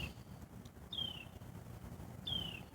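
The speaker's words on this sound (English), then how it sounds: "Those aren't normal birds." Birds calling outdoors in the middle of the night, around 2 a.m., near a workplace: two faint, brief, high whistles that slide downward in pitch, spaced apart over a low hum of background noise.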